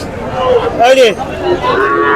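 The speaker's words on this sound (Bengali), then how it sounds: "আমি এখানে আরেকটা দেখাবো, একটু ছোট বাছুর গরু" A young calf at a large cattle market in Jessore gives a short, rising moo amid the chatter of people nearby.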